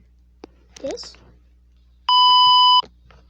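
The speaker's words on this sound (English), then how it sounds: "and even this beep" A steady electronic beep holds for under a second, loud and clean, with brief faint sounds around it.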